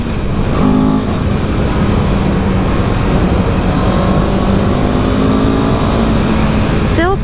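A 2023 CFMOTO 700 CL-X motorcycle engine pulls steadily while riding, a loud, continuous close-up drone with wind rush, ending with a short rising rev.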